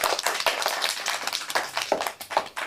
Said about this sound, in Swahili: Mpige makofi.